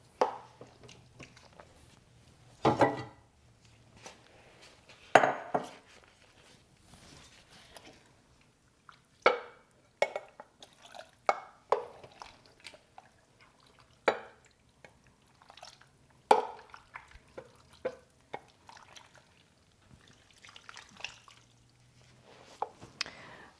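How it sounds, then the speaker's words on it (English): Spoon or spatula stirring a wet mixture of meat, rice and vegetables for homemade dog food, giving scattered squishing, scraping and clacking strokes in an irregular rhythm, close and fairly quiet, with no talking. "now I'm going to add the vegetables in."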